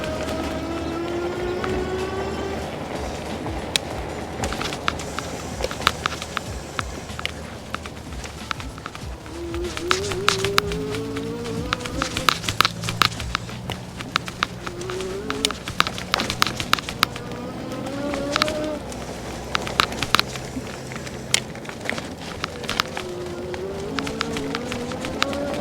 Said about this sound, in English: the clicking noise you hear is my microphone hitting my camera mount